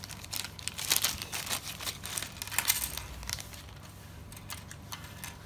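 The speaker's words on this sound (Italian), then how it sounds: "Ora tiriamo fuori tutto quello che c'è in questo sacchetto." Plastic bag crinkling and rustling as parts for a Strandbeest model kit are pulled out, with close, irregular bursts of crackle that fade toward the end; no voices.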